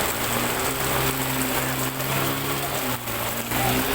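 Steady broadband hiss of light rain falling continuously, with a low mechanical hum running underneath throughout.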